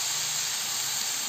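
Chicken going into a pot of hot oil for curry biryani gives a steady, loud, continuous hissing sizzle with no pauses and no talking.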